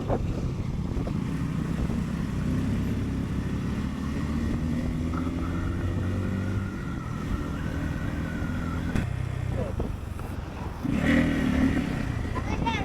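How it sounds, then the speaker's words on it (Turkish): A loaded motorcycle rolls down a slope on a trip to a highland festival, its engine a steady close drone with wind buffeting throughout and a rougher burst of revving near the end. "Yüklü motorla bastı bir de rampa aşağıya."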